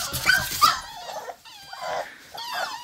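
Cane Corso puppies whimpering and yipping close by, a burst of high squeals at first, then softer intermittent whines spread across a few seconds.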